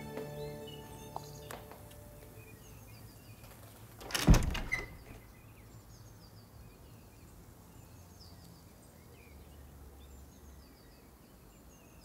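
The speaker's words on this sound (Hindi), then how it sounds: "अंदर आते हुए ये दरवाजा बंद कर देना प्लीज।" A door closes in an indoor home scene, one loud thud partway through, set against faint background ambience with a few light bird calls and no speech.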